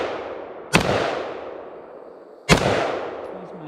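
Two sharp, loud rifle shots from an FN FS2000 bullpup, spaced under two seconds apart, each followed by a long decaying echo, with spent shells being ejected forward out of the rifle.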